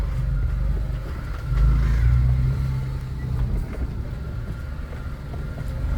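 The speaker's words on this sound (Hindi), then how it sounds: "ये गाड़ी चलती है, पूरी रोड गड्ढे से भरी पड़ी है।" A car drives slowly along a road full of potholes, its engine a steady low rumble close by, swelling briefly partway through.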